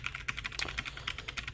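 Quick, clacky keystrokes on a Logitech G613 wireless mechanical keyboard, close and fairly quiet, tapping in an uneven rhythm.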